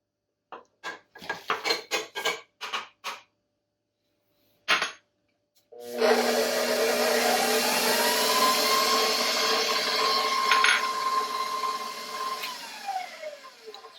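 Chocolate lava cake batter with flour is beaten by an electric mixer: a few sharp taps and clicks, then a loud, steady whir that holds for several seconds before winding down slightly.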